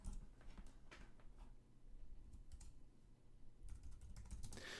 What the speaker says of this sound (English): I'm going to type in assets